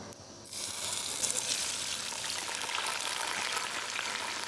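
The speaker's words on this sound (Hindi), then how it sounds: "अब इसके अंदर हमने आलू ऐड कर दिया है इसको हिलाएंगे" Potatoes frying in hot oil with cumin in a pan, a steady loud sizzle that swells after a brief quiet start and holds throughout, with faint stirring.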